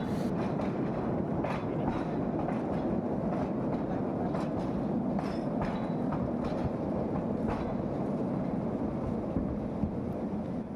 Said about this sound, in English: This was the train and it is now ready to take the next batch outside the mountain